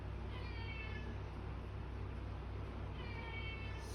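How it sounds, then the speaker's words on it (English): A cat meows indoors near a hobby workbench, two faint drawn-out meows at the start and end over a steady low electrical hum. "My apologies for the cat in the background."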